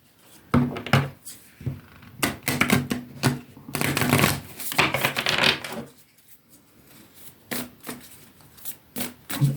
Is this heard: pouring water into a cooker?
no